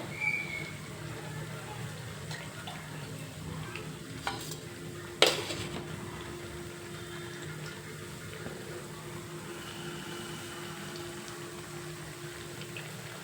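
Chana dal vada bubble and sizzle steadily in hot oil, a close, continuous frying hiss with a few sharp clinks from a utensil partway through.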